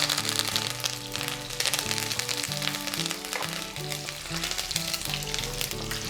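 Dried red chillies and curry leaves crackle and sizzle loudly in hot oil for pepper rasam, a dense continuous fry under background music.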